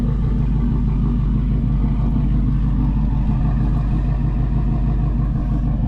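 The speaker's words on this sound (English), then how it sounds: "So this is the car at idle." A 700 whp Ford Mustang with a modified exhaust idles close by, a heavy, steady low rumble with a loping pulse that stays even and loud throughout.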